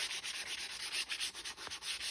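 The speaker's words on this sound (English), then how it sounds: "So just run over it a little bit with some 220 grit, I think this is, just to dull those corners." Sandpaper of 220 grit is rubbed by hand over the corners of a wooden box, a quick run of soft, rhythmic scratchy strokes, close and fairly faint.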